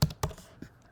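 Short bursts of keystrokes tap on a computer keyboard, close and crisp, with a couple of quick clusters followed by a softer final tap.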